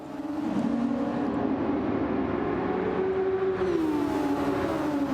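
Racing engines in an F1 video game drone steadily and loudly throughout, with a pitch that rises and shifts as cars run side by side through an overtake at the end of a lap.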